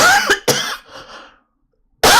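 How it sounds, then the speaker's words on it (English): A single person's sharp cough, a couple of quick close bursts followed by a softer trailing rasp, then silence and another abrupt burst at the end, recorded close and loud with no talking. "I had to cough."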